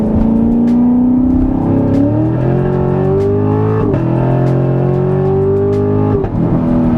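A 2017 Corvette Grand Sport 3LT with a 460-horsepower engine accelerating hard on the road, loud in-car engine roar climbing in pitch through successive gear shifts, steady and close throughout.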